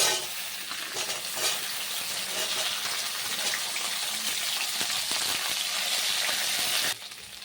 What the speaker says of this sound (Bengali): এখন এই তেলের উপরে আমি ঢেঁড়সটা দিয়ে দিচ্ছি।